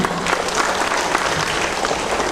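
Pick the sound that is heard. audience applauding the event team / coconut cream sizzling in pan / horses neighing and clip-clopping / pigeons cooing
audience applauding the event team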